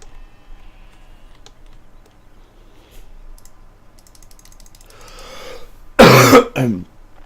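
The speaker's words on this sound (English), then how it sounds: "Sorry about coughing." A quiet room with a few faint ticks and taps breaks into a single loud, harsh cough near the end, short and close to the microphone.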